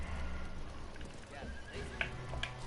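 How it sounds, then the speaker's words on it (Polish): Horse neighing and galloping in the battle royale video game Realm Royale, with faint whinnies and hoof clip-clop under quiet game ambience while voices talk over it. "Wsiadaj na konia i jedź."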